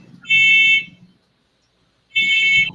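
A fire alarm sounds in two loud, steady electronic beeps, each about half a second long with a pause between, close and alone.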